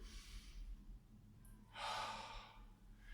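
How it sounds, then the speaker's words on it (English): A single close, soft breath, a faint inhale followed by a longer, breathier exhale, heard over a low ambient hum with no talking, during a posture exercise while standing. "Take a breath in, breath out"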